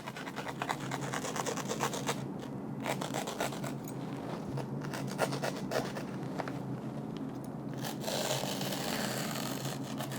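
A sharp blade traces around an item in shadow foam, giving a quiet, continuous rasping and scratching drag with small irregular strokes and a slightly brighter scrape near the end.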